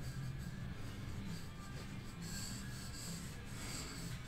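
A pencil or pen drawing on paper, producing a soft continuous scratching and rubbing with gentle strokes, close and quiet, alone without talk.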